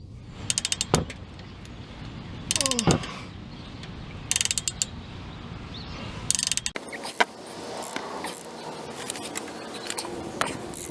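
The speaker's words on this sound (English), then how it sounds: "I'm just giving myself a little breaker bar" A long breaker bar works a stuck, seized bolt on the front shock of a Ford F150, giving several short bursts of metallic ratcheting clicks and creaks with pauses between, then a sharper crack followed by steady rattling handling noise.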